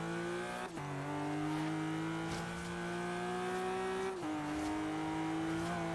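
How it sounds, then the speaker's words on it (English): A BMW M5 rallycross build in Forza Horizon 3 drifts sideways, its engine holding a steady loud drone that briefly drops in pitch twice as it shifts or lifts, with faint tire noise underneath. "Getting very, very sideways. Lots of drift. Lots of smoke."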